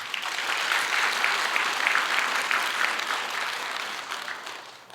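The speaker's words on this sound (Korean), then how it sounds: "이주환 목사님 박수 한번 해주세요" A church congregation at a dawn prayer service applauds a pastor, a full, steady wash of clapping that swells early and slowly fades toward the end.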